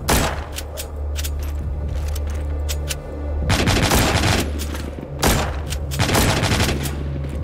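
Rapid bursts of gunfire from The Walking Zombies 2 video game, dense volleys and single shots repeating throughout with thumping low-end, loud and continuous with no talk.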